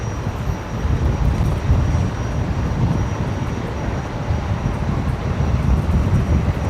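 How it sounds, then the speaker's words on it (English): Virgin Australia jet rolling for takeoff on runway 19 left at Brisbane Airport, a steady broadband engine roar that holds loud and constant throughout with no voices. "Next aircraft to depart is just rolling now. Velocity 958 off to Sydney."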